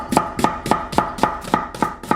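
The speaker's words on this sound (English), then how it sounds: "Thinly slice the onion." A knife slices an onion thinly on a cutting board for butter chicken sauce, nine crisp evenly spaced cuts in quick steady rhythm, close and clear with no talk.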